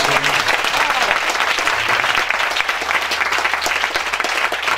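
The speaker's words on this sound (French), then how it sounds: "On peut acclamer le Seigneur pour le vieux." A church congregation claps in sustained applause to acclaim the Lord during a spiritual retreat service, a dense, steady roar of many hands close and loud throughout, with faint voices mixed in.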